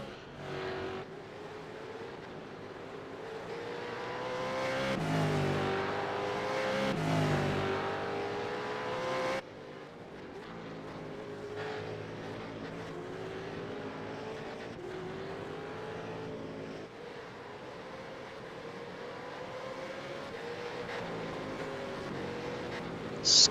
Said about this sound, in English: Ski Man driving the wheels off that car